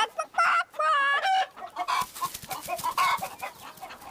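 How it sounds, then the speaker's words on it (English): Chickens clucking close by, a burst of loud, tonal clucks and squawks in the first second and a half, then a steady run of softer, busier clucking from several birds. "Chickens eat my scraps and dregs and turn them into yummy eggs."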